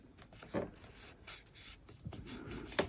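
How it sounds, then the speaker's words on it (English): A dark blue pen scratches across paper in short, quiet strokes, writing a single word close up with small pauses between letters. "I'm just going to use this dark blue one and just write honeymoon on it."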